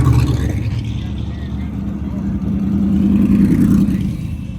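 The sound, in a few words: race car driving past in traffic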